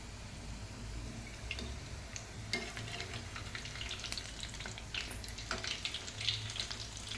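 Cafe-style crispy cheese balls frying in oil, a quiet close crackling sizzle with scattered pops and bubbling throughout, no one talking.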